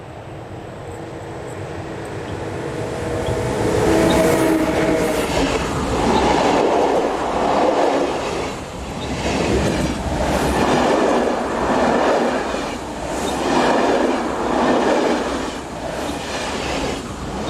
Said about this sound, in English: 11-16-053 heads train EC163 from Basel and Zurich to Wien